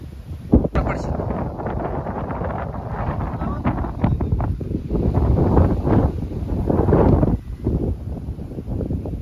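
Strong wind buffets the microphone in heavy continuous rumbling gusts during rain outdoors, while people talk underneath throughout.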